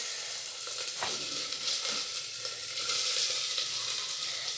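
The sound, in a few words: onions and curry leaves sizzling in oil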